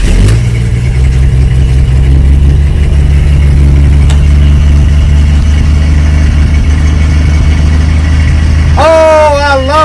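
A carbureted vehicle engine starts after a few pumps of the pedal and settles into a loud, steady low rumbling idle close by, with a voice speaking near the end.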